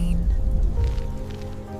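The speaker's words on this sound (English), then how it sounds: "The rain was hitting the window pane hard, making a rhythmic tapping sound" Steady, dense rain pattering hard against a window pane, a continuous close wash of tapping with no voices.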